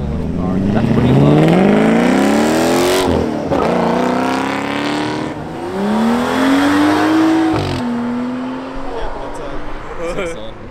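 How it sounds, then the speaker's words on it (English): A turbocharged car at a car show revs nearby, its engine tone rising and falling in several long sweeps with a whistling edge, while people talk over it. "You can hear the turbos."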